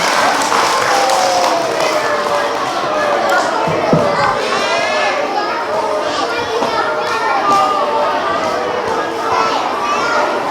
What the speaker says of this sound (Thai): ขอเสียงปรบมือเลยค่ะ